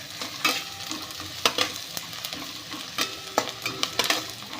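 Finely chopped onions fry in a pan, a soft steady sizzle broken by repeated scraping clacks as they are stirred, close and fairly quiet.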